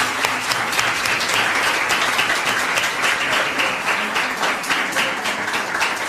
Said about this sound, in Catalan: Un aplaudiment també per a ell, per l'esforç.